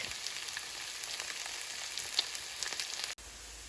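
Potato pancakes (latkes) fry in a pan with a steady, close hiss of sizzling oil that runs unbroken and ends abruptly near the finish, with no one talking.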